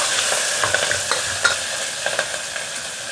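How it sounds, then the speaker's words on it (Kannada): Chopped onions and curry leaves fry in hot oil while a spoon stirs and scrapes the pan, giving a steady sizzle broken by irregular clinks and scrapes, with no one talking. "ಇದಕ್ಕೆ ಕರಿಬೇವು ಸೊಪ್ಪು, ಅದೇ ರೀತಿ ಸಣ್ಣದಾಗಿ ಕಟ್ ಮಾಡಿದ್ದ ಈರುಳ್ಳಿ ಇವೆಲ್ಲ ಕೂಡ ಹಾಕಿ ಚೆನ್ನಾಗಿ ಫ್ರೈ ಮಾಡೋಣ"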